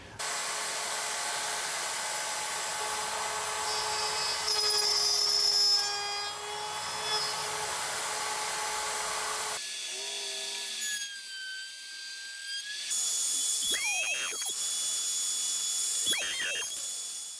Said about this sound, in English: I'm just going to put it in the router here and cut it.